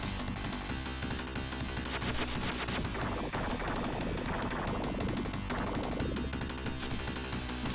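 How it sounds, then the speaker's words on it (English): A shmup mid-boss fires missiles amid dense, continuous game action, with rapid repeated blasts and bursts layered over thick electronic music and noise, loud and unbroken throughout. "Here he comes, immediately firing his missiles."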